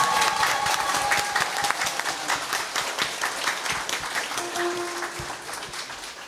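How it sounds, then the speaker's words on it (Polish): An audience at a Women's Day concert by a band claps for a musician playing his first concert, a moderate round of applause that slowly tapers off, with a faint voice underneath. "proszę o drobne brawa, żeby wiedział, że dobrą decyzję podjął"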